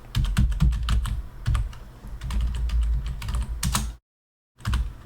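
A Commodore 64 keyboard is typed on in quick, clattering keystrokes that come close and fairly loud, with a brief silent gap near the end before the tapping resumes.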